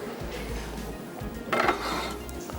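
A lid set over a pot of freshly tempered dal in a kitchen gives a brief clatter of metal around the middle, over a steady low stovetop hum.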